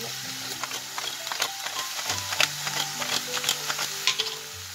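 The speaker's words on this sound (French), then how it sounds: "vous laissez cuire la viande hachée 15-20 minutes" Ground meat cooks in a pan with a low sizzle while a utensil stirs it, giving soft, irregular scraping clicks through the stretch, close and fairly quiet.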